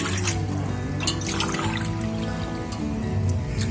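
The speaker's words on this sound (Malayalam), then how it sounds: "4 ഗ്ലാസ് വെള്ളം ഒഴിച്ചിട്ട് ഇതിൽ പാകത്തിന് ഉപ്പിട്ട് കൊടുക്കാം." Water poured into a cooking pot to be salted and boiled for nice pathiri dough, giving a continuous gurgling, splashing stream that is close and moderately quiet.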